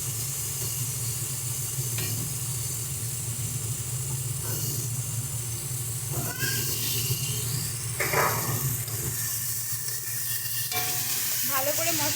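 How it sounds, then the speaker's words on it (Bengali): Pre-fried raw banana stirred into a spiced masala sizzles and fries steadily in a pan, with occasional clinks and scrapes of a spoon over the constant hiss. "ভালো করে মশলার সাথে মিশিয়ে নেব।"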